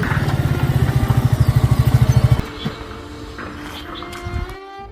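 Motorcycle engine running close by with a loud, fast rhythmic pulsing idle that stops abruptly partway through, followed by quieter background noise.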